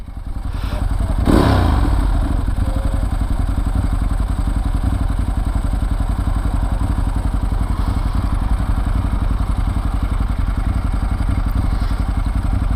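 A Ducati 916 motorcycle being ridden, its engine a loud, steady, throbbing drone heard up close and continuous throughout, with a brief thump near the start.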